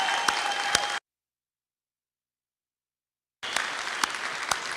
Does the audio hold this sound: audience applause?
yes